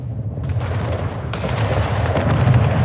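Frigates firing cannons during a naval battle in the city-building game Anno 1800: rolling, overlapping booms of cannon fire over a steady low rumble, continuous and fairly loud throughout, with no talking.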